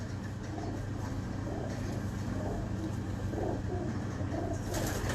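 Pigeons kept by a pigeon fancier coo softly in repeated low throaty phrases against a constant hum of distant traffic and outdoor background noise.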